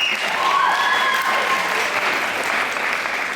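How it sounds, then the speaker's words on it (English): Audience applause at a high school hypnosis show during a winter ball, steady dense clapping from a large crowd filling the room throughout, with a brief whistle-like tone riding above it early on. "Give him a big round of applause."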